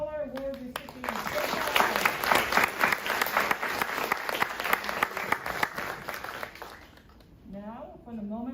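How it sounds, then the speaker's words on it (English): Ceremony audience applauding award recipients at a school promotion ceremony, a sustained wave of clapping that swells and then fades, with a speaker's voice heard before and after it. "Round of applause for all our award recipients."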